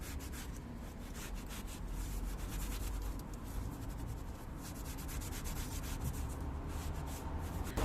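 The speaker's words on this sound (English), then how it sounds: "I used Aerospace 303, which was applied to a foam applicator pad before being worked into all of the surfaces." A foam applicator pad rubs Aerospace 303 protectant into the plastic trim of a Mercedes E220d, making a steady, close scrubbing hiss that runs continuously without any talk.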